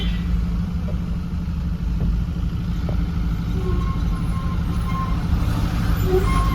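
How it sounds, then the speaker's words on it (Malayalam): A bus rumbles past a parked container truck on a narrow roadside stretch near Varapuzha, Kerala, with a loud, continuous low engine drone that holds steady from start to finish and no talking. "അടുത്ത ബസ് വരുന്നു"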